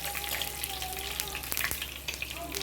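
Curry leaves and crushed cumin hitting a quarter cup of hot oil in a pan, a continuous fizzing sizzle with sharp spitting pops, moderately loud and close, no voices.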